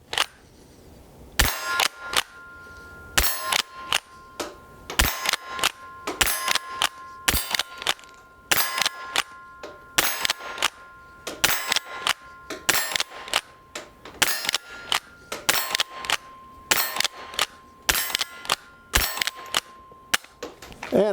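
An 1890 Winchester .22 short pump rifle fires repeatedly outdoors, sharp loud cracks spaced a second or two apart with clanking action cycling between shots, and a steady tone running underneath.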